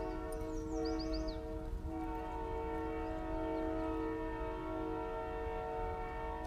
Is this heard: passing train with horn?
yes